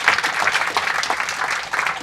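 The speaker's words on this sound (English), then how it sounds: "let's just give a round of applause for Brendan." A crowd applauding steadily, dense clapping from many hands throughout, fairly loud and close with no talking over it.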